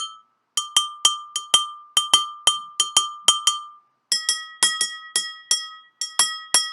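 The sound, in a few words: glass with water tapped with a knife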